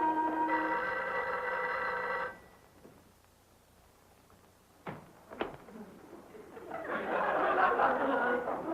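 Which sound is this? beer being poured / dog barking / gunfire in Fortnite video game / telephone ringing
telephone ringing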